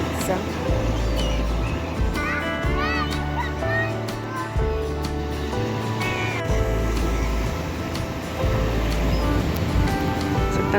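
Black Sea surf rolls at Odesa on a cold, windy day, a constant loud rumble of wind and waves buffeting close by while people talk over it.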